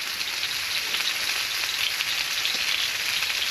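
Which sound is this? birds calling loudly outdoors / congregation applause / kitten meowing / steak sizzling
steak sizzling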